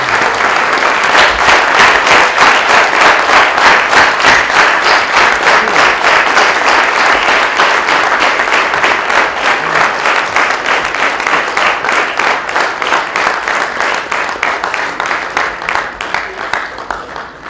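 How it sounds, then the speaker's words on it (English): Sustained applause from an audience at a school science exhibition, rising in the first seconds and then dense and loud, with a rapid clapping texture that slowly thins and fades toward the end. "Kindly give a big round of applause for the extra."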